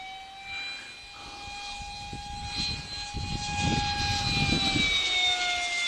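A Tommy F16 electric ducted-fan RC jet with a 60 mm fan flies past, its high whining fan tone sliding in pitch over rising rushing air noise, fairly close and growing louder.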